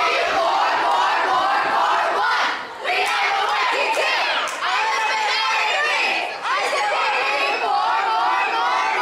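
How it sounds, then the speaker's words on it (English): A crowd of children cheering and shouting at a school show, loud overlapping voices rising in several bursts with brief dips between them, close and energetic throughout. "I feel like we need a cheer."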